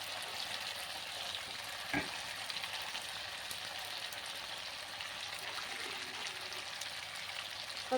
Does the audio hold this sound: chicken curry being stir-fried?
yes